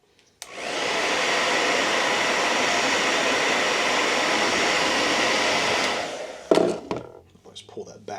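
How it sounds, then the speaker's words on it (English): A hair dryer blows steadily for about five seconds, heating the adhesive of a chin mount on a motorcycle helmet, then cuts off, followed by a few handling clatters. "Shout out to my wife for her hair dryer."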